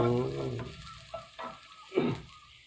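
Shallots stir-frying in a pan for a pork sago filling, a steady sizzle with a few scraping stirs, near and moderately loud; someone talks over the start.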